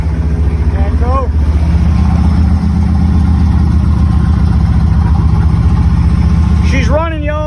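A 5.7 Vortec V8 runs steadily after a timing adjustment, a loud, close, continuous idle rumble lasting throughout, with people talking and shouting over it near the start and end.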